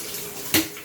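Water sprays from a shower head onto a Bissell PowerForce Compact vacuum filter assembly, a brief steady hiss broken by one sharp louder splash, close and without talking.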